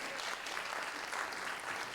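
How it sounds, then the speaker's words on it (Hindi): An audience at a Bollywood classics concert by arts-school students breaks into a brief, even burst of applause, steady and fairly close throughout. "तालियां बनती हैं उनके लिए"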